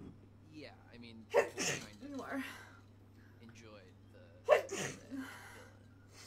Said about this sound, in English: I don't want to say it if you got more sneezes.